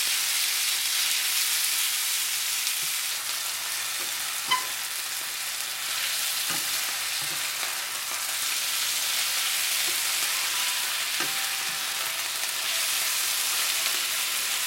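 Thin-sliced beef fries in a pan for a Chinese spicy beef dish, a loud steady sizzle with occasional clicks and scrapes of stirring, no voices.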